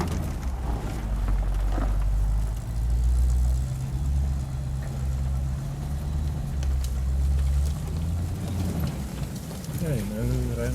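A 4x4 vehicle at a Bridgestone 4x4 Club Challenge climbs a loose embankment, its engine droning low and steady with gravelly crunching, while people talk over it.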